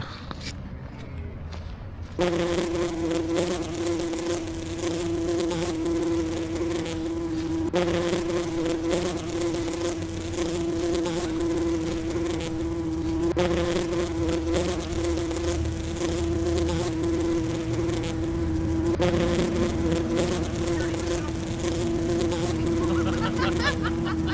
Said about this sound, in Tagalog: POV, bubuyog ka.